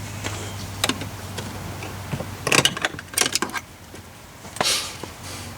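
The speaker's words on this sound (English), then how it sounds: "So I'm going to revert to the good old-fashioned flathead screwdriver." Flathead screwdriver prying and clicking at a Mazda6 door card, a handful of sharp ticks and plastic snaps spread across a quiet garage background, some close and fairly loud.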